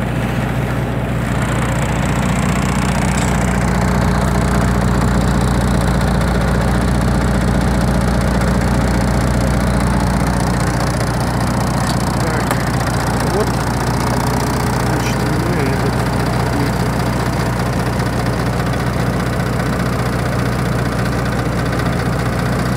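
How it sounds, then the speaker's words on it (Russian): A vehicle engine idles steadily with a constant low rumble and faint mechanical rattle, running continuously without changing pace. "как работает двигатель"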